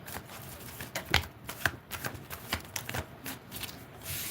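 A deck of tarot cards is shuffled up close, making a quick run of soft riffling flicks and taps, faint and continuous, with no talking.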